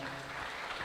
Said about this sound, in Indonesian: Boleh beri tepuk tangan saudara.